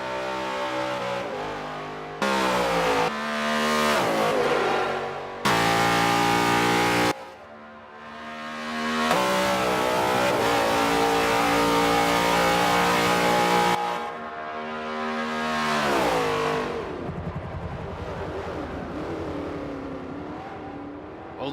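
A Holden V8 race car engine screams through repeated revving surges and gear changes, rising and dropping in pitch. It stays loud and close with a few abrupt cuts, and no voices are heard.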